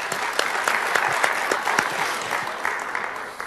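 A conference audience in Algeria applauds steadily, dense clapping throughout at close range.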